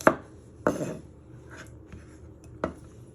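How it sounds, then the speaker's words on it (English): A knife chops garlic into fine pieces on a cutting board for Italian beef soup, with three sharp, close knocks spaced apart and fainter taps in between, no talking. "Just give it one final chop, so they're nice and fine."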